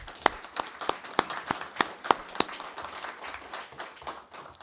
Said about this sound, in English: So big round of applause for our students